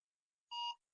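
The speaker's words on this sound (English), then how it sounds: "You hear that beep?" A QR code reader gives one short electronic beep, a clean tone lasting about a quarter second in otherwise silent surroundings.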